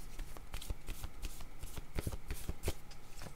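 Tarot cards are shuffled by hand at close range, a run of quick riffling slaps and soft taps in an uneven rhythm lasting throughout, with no speech over it.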